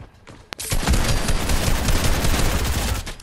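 Loud burst of video game gunfire: a sharp single shot followed by a sustained rattling volley of rapid shots that fills the clip, with no talk over it.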